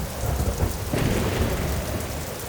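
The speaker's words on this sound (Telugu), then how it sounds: "హఠాత్తుగా బిగ్గరగా ఒక పిడుగు పడిన శబ్దం వినిపించింది." A cartoon-style thunderclap rumbles loudly over heavy, steady rain pouring down, a dense storm wash with no voices.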